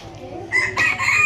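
A rooster crows loudly and close by, one long call rising over a low steady background hum.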